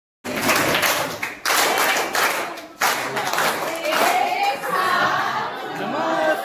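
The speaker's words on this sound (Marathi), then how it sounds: "टाळ्या वाजवा रे सगळ्यांनी टाळ्या" A crowd at a school batch reunion gathering claps together in several bursts, with brief pauses between rounds and some chatter mixed in.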